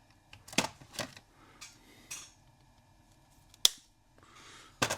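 Several short crisp snips of a wire being cut with a hand tool, scattered and fairly faint, with one sharper click standing out.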